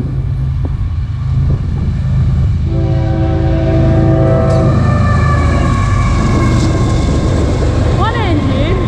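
A CSX intermodal freight train rumbles past close by at Washington St in North East, Pennsylvania, its horn sounding a sustained chord midway, with steady wheel and car noise throughout and a voice briefly at the end.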